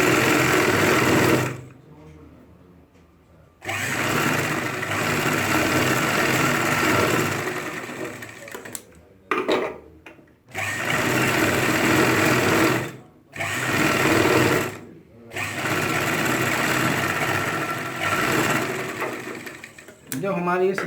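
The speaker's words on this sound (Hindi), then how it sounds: "तब आप फ्रंट वाले हिस्से पे भी सिलाई लगाएंगे" Sewing machine stitching the front part of ladies' pants with a side zip, several sustained whirring runs broken by short pauses and quick stop-start bursts, close and fairly loud.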